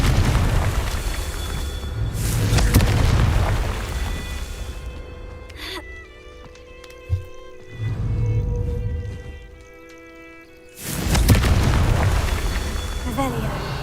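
Confringo fire spells explode in the Hogwarts Legacy video game: loud booming blasts with rumbling tails recur across the stretch, separated by quieter gaps with a sharp pop, heard close amid game ambience.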